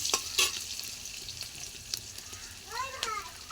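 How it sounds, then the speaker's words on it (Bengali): Onions fry until reddish-brown in a pan: a faint, steady sizzle with a few scrapes of a stirring utensil, while a voice speaks briefly in the background. "তো দেখতে পাচ্ছ এখানে আমাদের পেঁয়াজটা লাল লাল করে ভাজা হয়ে গিয়েছে।"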